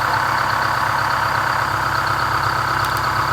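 GM 4106 bus fitted with an Allison V730 transmission backing up, its engine idling in a loud steady drone close by, with a faint repeating beep pattern.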